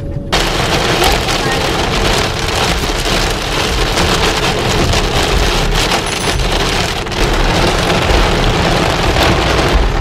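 Heavy rain falls during a road trip into Ghent, Belgium, making a dense, continuous roar of drumming drops. It stays loud and steady for the full ten seconds.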